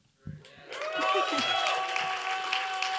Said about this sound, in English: Is that what they're applauding?